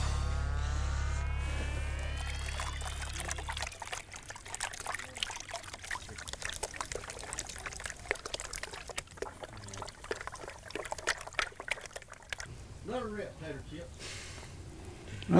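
Gold panning, with water swirled and sloshed in a gold pan: intermittent close splashes and trickles follow a steady engine-like hum at the start, and people talk over it.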